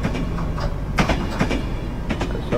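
A Greater Anglia Class 170 train in Train Simulator 2020 runs on the Lowestoft to Norwich line. It gives a steady rolling rumble with repeated clickety-clack wheel beats over rail joints, close and moderately loud.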